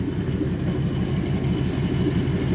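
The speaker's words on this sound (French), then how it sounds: "moteur qui tourne super bien, très régulier, aucune vibration" A 1957 Pontiac Star Chief engine runs at a steady, even idle, a continuous low rumble heard up close with no voices.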